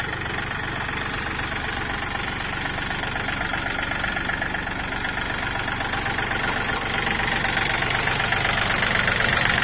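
A steady tractor diesel engine idles close by, with a constant low rumble and a faint rhythmic knock that holds even throughout.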